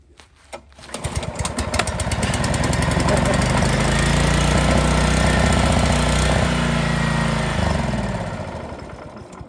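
A Honda HR215 lawn mower engine starts after a pull, catches, and runs loudly and steadily with a rough, throbbing idle close by, then winds down slightly near the end.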